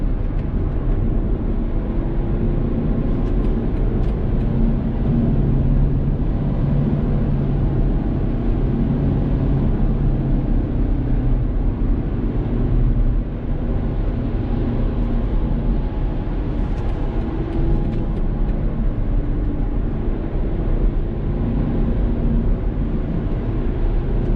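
A BMW 118d diesel with 150 horsepower accelerating in sport mode on a highway gives a steady, loud cabin drone of engine and road noise that holds evenly throughout with no break.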